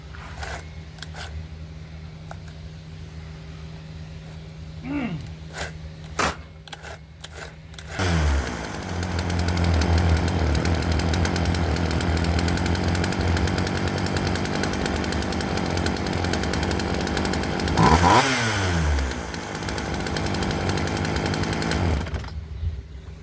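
A Craftsman chainsaw after a fuel line repair starts around eight seconds and runs loud and close with a buzzing drone and a brief rev, preceded by clicks and clatter.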